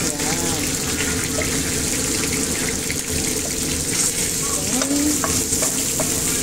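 Fish frying in a pan with tomato added, a loud continuous sizzle and spatter close by, with scraping and stirring and a voice speaking intermittently over it.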